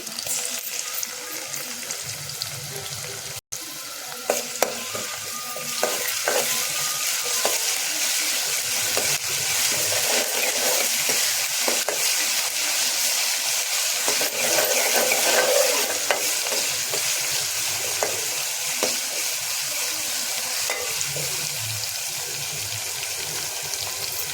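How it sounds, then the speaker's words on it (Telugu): Ginger fries in hot oil in a kadai while a spoon stirs it steadily, a loud, continuous close-up sizzle broken by repeated scraping strokes. "అల్లం కొంచెం బ్రౌన్ కలర్ కట్టేదాకా కలుపుకుంటూ ఉండాలి"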